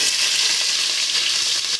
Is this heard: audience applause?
no